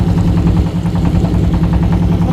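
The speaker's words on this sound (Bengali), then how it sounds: "আমাদের নৌকা অলরেডি ছেড়ে দিচ্ছে।" A wooden passenger boat's engine chugs steadily as the boat pulls away on a windy river, a continuous low mechanical drone with a faint rattle, close and loud throughout.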